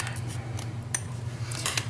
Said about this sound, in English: I'm going to just trim that off with my scissors